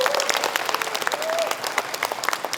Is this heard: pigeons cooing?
no